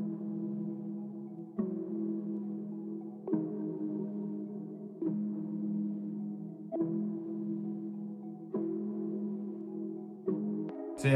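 Plucked synth notes in FL Studio repeat at a steady pace, roughly every second and a half, with a smooth automated knob sweep shifting the tone from swell mode toward an effects mode. Sound is sustained and mid-loud with no talking.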